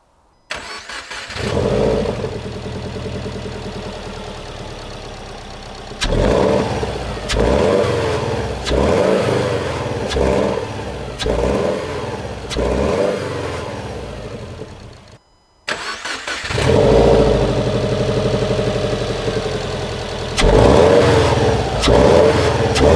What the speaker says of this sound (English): just rev it a few times and see if we notice any different